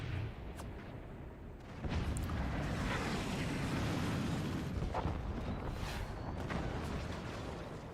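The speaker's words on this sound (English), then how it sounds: "that cannon round took out an entire machine gunner" A cannon round explodes in a 2v2 multiplayer war game, a heavy booming blast that rolls into a long, loud rumble with scattered crackling debris, alone with no talk.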